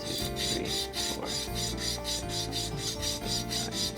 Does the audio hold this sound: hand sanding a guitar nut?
yes